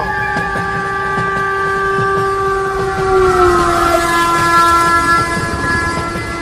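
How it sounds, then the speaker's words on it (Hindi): A cartoon train blasts a loud, sustained multi-tone horn that bends downward in pitch as it passes, over rumbling wheels and clickety-clack on the rails, with no talking. "तू ट्रेन को नहीं रोक पाएगा"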